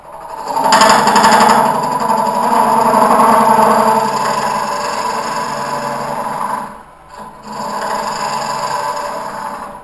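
A hollowing tool cuts into cherry wood on a lathe, a loud continuous rough grinding scrape with a rumbling undertone, easing briefly near the end before resuming.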